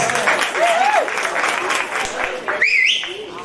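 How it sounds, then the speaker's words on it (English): Audience applauding at a Women on the Move gathering honoring Ms Dee Parker, a steady wash of clapping under a speaking voice and a brief whistle-like sweep near the end. "let's give that a round of applause"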